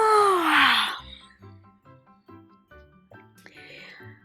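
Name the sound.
storyteller imitating a long slow yawn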